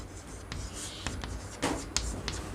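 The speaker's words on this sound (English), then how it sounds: "Let me write it here." Marker or chalk scratching across a classroom board in short strokes and taps, quiet and close, with faint room noise and no talk over it.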